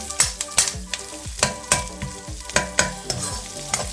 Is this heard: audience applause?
no